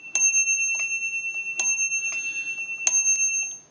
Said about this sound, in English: I want to show you something on the clapper. See how easy that moves back and forth?